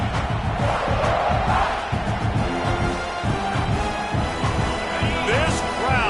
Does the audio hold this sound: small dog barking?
no